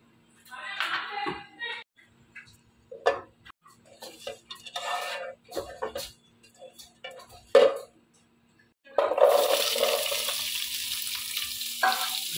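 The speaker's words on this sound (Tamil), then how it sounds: "இங்க ஆனியன் வதங்கிட்டு இருக்கு." Intermittent clinks and stirring in a pan with brief voices, then a steady hiss of onions sizzling in hot oil rises and continues, while tempering spices for a Tamil home-cooking dish.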